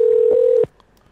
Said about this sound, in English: as you can hear the phone ringing right now